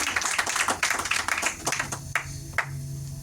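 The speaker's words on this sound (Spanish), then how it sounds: "Vamos a darle un aplauso al Señor si te animas." A church congregation claps during a sermon, a short burst of scattered, uneven hand claps that thins to a few last claps, heard without talk.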